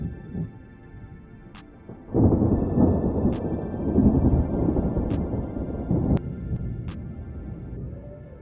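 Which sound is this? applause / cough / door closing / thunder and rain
thunder and rain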